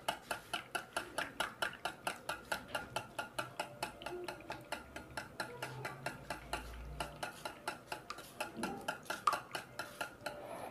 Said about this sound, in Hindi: फेंटना है आपने।